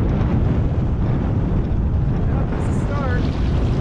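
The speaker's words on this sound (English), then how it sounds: "Wind's picking up, that's nice." Steady, loud roaring wind buffeting the microphone aboard a halibut longlining boat at sea off Alaska, a continuous close rumble with no breaks, with a voice faintly present.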